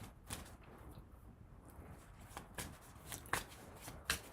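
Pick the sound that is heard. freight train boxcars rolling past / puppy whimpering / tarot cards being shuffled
tarot cards being shuffled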